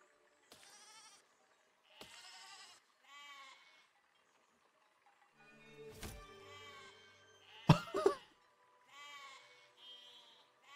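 Sheep in the video game Besiege bleat in short separate calls, several in a row with gaps between them, mixed with sharp game impacts and louder crunching hits toward the end.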